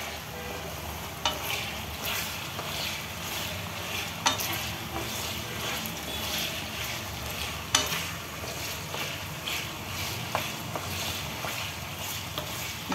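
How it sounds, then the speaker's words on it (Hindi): Cumin seeds and four or five dry red chillies frying in hot oil over a full flame for mutton pickle, a continuous close sizzle with occasional sharp clinks of a spoon against the pan. "अब इसको फुल फ्लेम में फ्राई करना है।"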